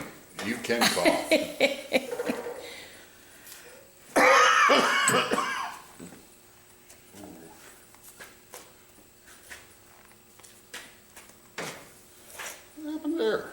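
A person coughs several times in a workshop during salvage work on a Quincy 5120 compressor, with a loud burst of coughing midway and scattered quieter sounds and talk around it.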